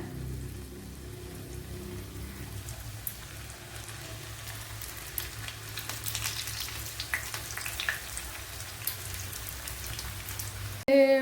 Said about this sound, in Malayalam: ഓയിൽ ചൂടായിട്ടുണ്ട് അതിലേക്ക് പാവയ്ക്ക ഇട്ട് കൊടുക്കാം